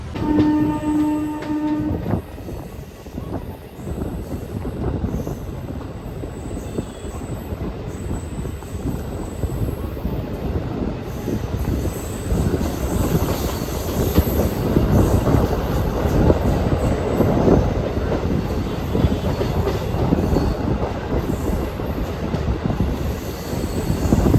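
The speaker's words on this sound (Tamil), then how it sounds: "அதுக்காக தான் இந்த மெமோ எக்ஸ்பிரஸ் ரன் பண்ணுறாங்க." A MEMU express train runs steadily on its rails, with continuous loud wheel-on-track rumble and clatter plus occasional high wheel squeal, sustained throughout with no talk.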